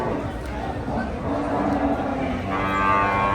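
A cow moos at a busy cattle market in Dhule, a long low call rising out of steady crowd chatter and people talking nearby.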